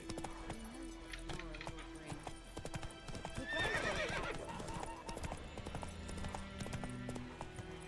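A horse in The Witcher 3 clip-clops steadily across the ground, with a whinny partway through, hoof beats staying up close and continuous under a game music bed.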